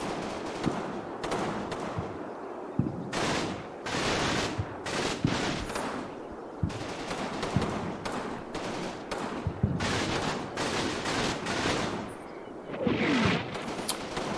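Heavy machine gun fire in a World War II German wargame, rapid bursts of rattling automatic fire repeating in irregular clusters with short gaps, loud and close, mixed with scattered explosive thumps.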